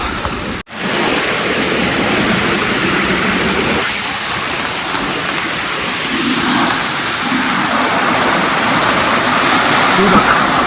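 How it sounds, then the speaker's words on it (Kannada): Powerful falling water at Koodlu Theertha Waterfall roars continuously and loudly, a dense wash of sound with a brief dropout early on and faint voices beneath. "ಅಲ್ಲಿಂದ ಫಾಲ್ಸ್ ಬರ್ತಾ ಇದೆಯಲ್ಲ ಅದ್ರದ್ದೇ ನೀರು"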